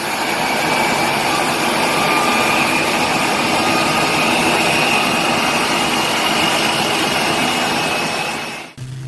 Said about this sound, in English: No pistons, no thump, just pure jet howl.